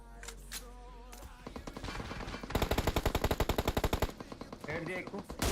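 A mobile shooter game plays on a low-end phone, with sparse single shots at first, then a long rapid burst of automatic gunfire whose evenly spaced cracks fire loud and close, followed by a few more scattered shots.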